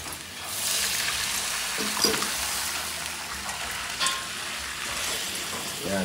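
Chicken adobo cooked with Sprite bubbles and sizzles in a pan, a constant loud hiss with a few soft stirring knocks.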